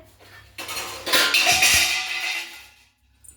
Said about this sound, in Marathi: भांडी पण पाडता का रे तुम्ही